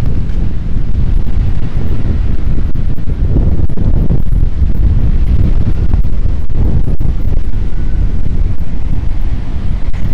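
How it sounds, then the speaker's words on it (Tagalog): Strong typhoon wind buffets the microphone with a loud, continuous low roar and rumble, gusting without letup near coconut trees during a storm in Marinduque. "mukhang nag-choppy na yung ating live stream dahil sa lakas ng hangin nating nararanasan"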